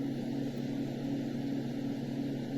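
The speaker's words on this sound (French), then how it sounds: "On va avoir des sons de ventilateur." A portable baby white noise machine playing a fan sound: a steady, even fan-like whir with a low hum, continuous and unchanging throughout, with no voices.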